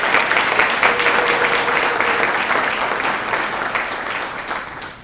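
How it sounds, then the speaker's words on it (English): A large crowd at a distinguished alumni awards ceremony gives sustained, dense applause that holds steady and loud, then tapers off toward the end. "Let's give them a round of applause"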